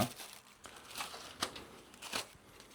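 A thin plastic sheet is torn gently while a wall-mounted air conditioner is being cleaned, giving soft crinkling rips in a few short bursts, close and quiet.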